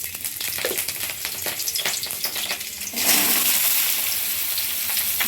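Whole five-spice (panch phoron) and green chillies drop into hot oil for potato bhaja, a dense close sizzle that suddenly surges louder partway through and then holds steady, with no talking.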